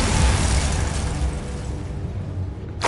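A Bombarda blast spell goes off in the Hogwarts Legacy video game, a loud broadband boom with heavy low rumble that decays slowly over a few seconds, ending with a sharp burst.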